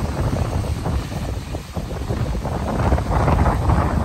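Strong Typhoon Uwan winds roar across Dolomite Beach, buffeting the microphone in a loud, continuous rush that dips briefly and then swells again.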